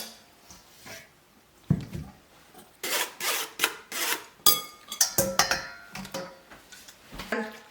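Hands swish and rub tamarind pulp in a bowl of water to clean it. Soft wet rubbing and sloshing come in irregular bursts, close and fairly quiet, with no voices.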